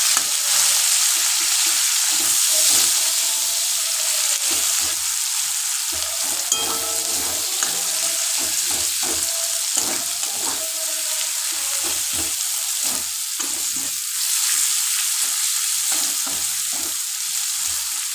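Chopped onion frying in hot oil makes a loud, dense sizzle that runs unbroken, with intermittent stirring scrapes close by and no voices.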